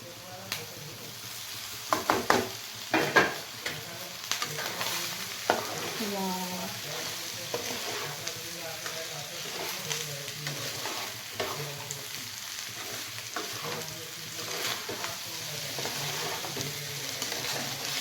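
Boiled rice being stirred into a frying pan for veg pulao, with a steady sizzle running throughout and scraping stirs and occasional utensil knocks on the pan, loudest early on.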